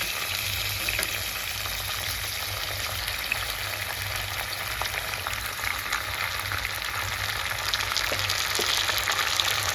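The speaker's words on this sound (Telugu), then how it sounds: "ఈ టమాటా బాగా ఫ్రై చేసుకోవాలి, మంచిగా మెత్తగా మగ్గిపోవాలి." Chopped tomatoes fry steadily in a pan with curry leaves and fenugreek seeds for a red chilli chutney, giving a continuous close, even sizzle with faint occasional stirring ticks and no talk.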